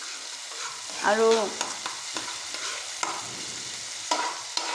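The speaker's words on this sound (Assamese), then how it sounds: "কেৰাহীত তেল গৰম কৰি ইয়াতে মই পিঁয়াজ দি দিছোঁ।" Onions fry in hot oil in a kadai, a steady close sizzle with scraping stirs, a brief tonal squeak and a few sharp clicks; one short spoken word is heard.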